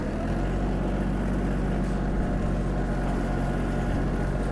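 A Kubota GL-220 Japanese mini tractor engine runs in a steady, low, rumbling drone at close range as it pulls away, with no talk.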